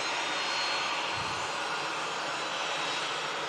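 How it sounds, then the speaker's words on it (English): Qatar Airways Airbus A350-1000 jet heard in thick fog at Manchester Airport, a steady broadband engine roar at a distance, continuous and fairly faint with no voices. "Qatar Airbus A350-1000 heading back to Doha in the Middle East"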